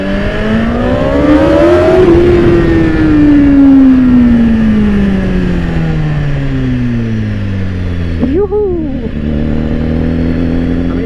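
A BMW S1000RR sport bike pulls away in first gear through a tunnel, its engine note climbing and falling loudly with strong echo, then a sharp rev blip near the end; no talk.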